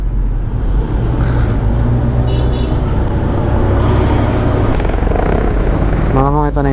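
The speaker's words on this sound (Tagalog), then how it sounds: "Traffic pala dito." Loud, continuous road traffic on a busy city road in Batangas, with engines rumbling close by, a passing horn-like tone near the end, and the steady roar of vehicles throughout.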